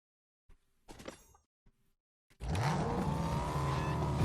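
A car in Fortnite gameplay, brief clicks and rustles, then an engine suddenly roaring up and holding a loud, steady drone with shifting pitch.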